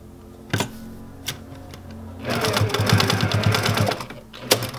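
A sewing machine stitches the white fabric pieces of a scuba flag mask, starting with a few isolated clicks and then running in a fast, close, rattling burst before stopping.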